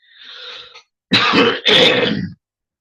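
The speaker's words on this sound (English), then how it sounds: "Got to get over this cough sometimes." A soft breathy rasp, then two close, forceful throat-clearing coughs in quick succession, loud and harsh.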